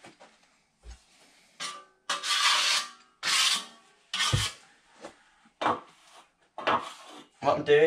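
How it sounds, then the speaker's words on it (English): A steel trowel scrapes and rubs in short, repeated strokes as bonding plaster is flattened on an artexed ceiling, each pass a rasping sweep with brief pauses between. "What I'm doing is filling in the edges, just trying to get the plaster nice and flat."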